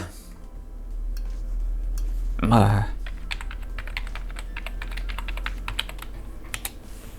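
Typing on the keyboard of a PowerMac G5 computer, a run of light clicking keystrokes close by, with a short burst of speech early on and a steady low hum underneath.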